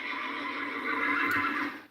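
A horse neighs as a dropped-in effect, one long, loud, quavering whinny filling nearly two seconds on its own with no talk.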